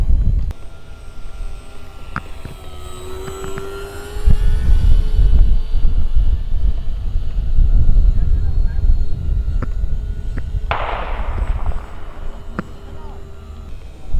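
A Dynam B-26 Marauder RC plane flies overhead, its motor droning faintly and shifting in pitch while wind buffets the microphone and people talk nearby.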